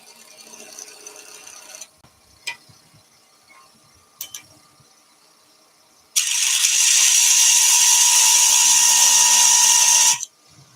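A wood lathe spins a turned wooden piece while a small cutter adds decoration, a few faint clicks and knocks leading into a loud steady four-second cutting hiss that stops abruptly.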